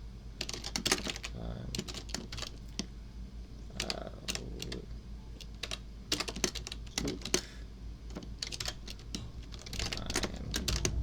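Fingers type on a computer keyboard in quick irregular bursts of close clicks and clacks, with brief pauses and a faint voice talking under the keystrokes.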